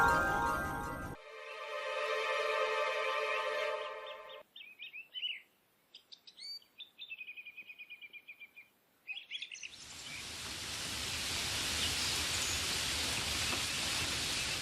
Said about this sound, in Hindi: अब पता नहीं ये बारिश कब थमेगी।